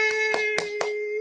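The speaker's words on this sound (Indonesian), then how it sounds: "Tepuk tangan teman-teman." A few sharp hand claps, four distinct close claps in even rhythm over a sustained steady tone, cheering someone who just finished a first half marathon.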